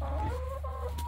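A bird inside a backyard chicken coop on a family farm makes a steady run of clucking and squawking calls, close and fairly loud, over a constant low background hum.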